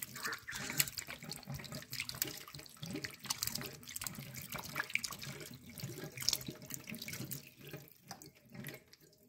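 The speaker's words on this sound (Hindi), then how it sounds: "इसको भी धो लेती हूँ अच्छे से, इस उंगली को भी" Tap water runs steadily into a sink while a cut finger is rinsed under the stream, a continuous close splashing and gurgling with small fluctuations and no talk over it.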